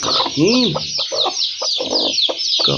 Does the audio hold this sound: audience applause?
no